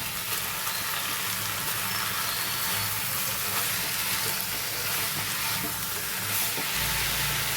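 Lemon-marinated chicken for egg chicken biryani goes into a hot masala of ginger-garlic paste, setting off a loud, steady sizzle and frying hiss that continues unbroken, close up, with no talking.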